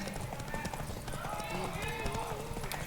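Horse hooves clip-clop rapidly in The Witcher 3, a steady galloping rhythm mixed with game sounds and a voice talking over it.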